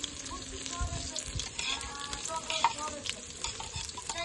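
Garlic sizzles in hot oil as the tempering for rasam is stirred, producing a close, busy crackle with scraping stir sounds throughout.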